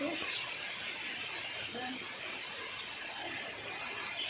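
Heavy rain falls in a steady, even hiss of broadband noise, a constant wash that holds through the whole stretch without letting up.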